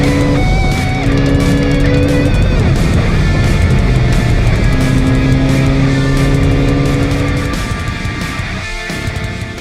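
A turbocharged 2015-17 Ford EcoBoost 1.6L car accelerates under a tuner module. The engine gives a loud, close, steady drone with sustained tonal whine that eases slightly near the end.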